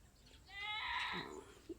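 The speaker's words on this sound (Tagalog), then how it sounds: "Ingay ng kambing dun. Dun sa kabukiran." A goat out in the fields lets out a single drawn-out, wavering bleat from a moderate distance, preceded and followed by quiet background.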